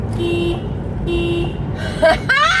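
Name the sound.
car horn honking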